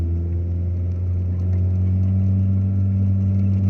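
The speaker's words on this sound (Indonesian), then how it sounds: "sambil saya gas ke posisi gigi 1 ya" A car engine drones steadily and close in first gear while climbing a steep, winding mountain road, its low hum holding constant throughout.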